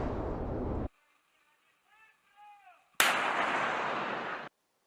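A Russian artillery unit fires, giving loud, broad rumbling blasts in two abrupt sustained bursts separated by a quieter gap with faint tonal sounds.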